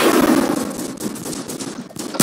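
Rapid gunfire in a food fight video game rattles out as a dense, loud burst of shots that continues across the whole moment, with no voices over it.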